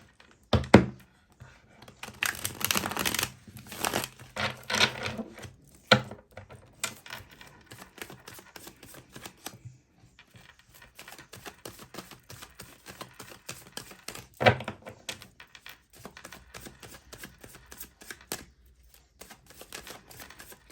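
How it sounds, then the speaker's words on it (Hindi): Tarot cards drawn and shuffled from three decks, soft papery riffles, slaps and taps in irregular bursts, quiet and close, with short pauses between handling. "मैं 12 कार्ड्स निकालने वाली हूँ गाइस, ठीक है। 3 डेक से 4 कार्ड्स निकालने वाली हूँ।"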